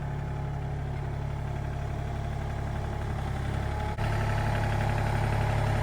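A SANY mini excavator's engine runs steadily and close by as the machine swings all the way around on hunting land, a continuous low idle-like drone that shifts slightly in pitch partway through, with no talk.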